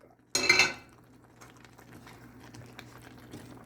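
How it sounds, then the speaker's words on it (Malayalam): A single sharp clatter of a spoon against a pan as mushrooms are stirred into gravy, followed by soft scraping and faint bubbling nearby. "എല്ലാം കൂടെ ഒന്ന് ഇളക്കി യോജിപ്പിക്കാം."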